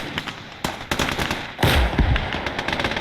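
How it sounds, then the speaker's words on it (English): Heavy 203mm artillery fires in the World War I mod for Gates of Hell Ostfront, amid a dense run of sharp cracking battlefield blasts, with one deep, loud boom standing out partway through. "I want to see the 203mm fire."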